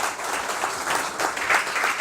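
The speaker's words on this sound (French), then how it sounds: "on peut applaudir" An audience at a lecture on Islamic finance applauds for a couple of seconds, a steady wash of clapping from many hands at a moderate, even level with no voices on top.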